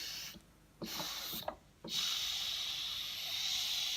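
Loud bursts of hissing steam rush out of an Instant Pot pressure cooker with short pauses between them, ending in a long continuous hiss.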